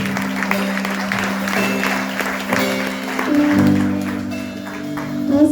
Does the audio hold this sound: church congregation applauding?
yes